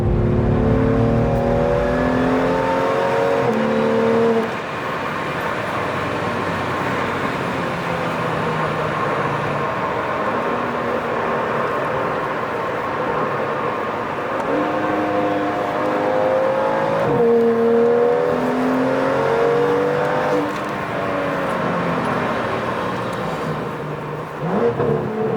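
A BMW M2 F87 with the N55 engine and clubsport exhaust, pulling through revs with repeated rising pitch sweeps and gear changes, heard from inside or nearby at moderate level with no speech.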